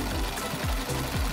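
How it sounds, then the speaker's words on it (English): A sewing machine runs steadily, stitching a fabric strip for doll sleeves, with a close, loud, rhythmic whirring and chugging and no talk. "we'll place a fabric strip under a presser tool"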